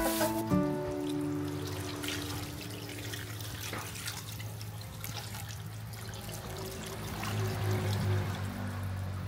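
Coconut milk pours in a thin, faint trickle into sugar for rice bibingka, with soft dripping and splashing continuing quietly for several seconds.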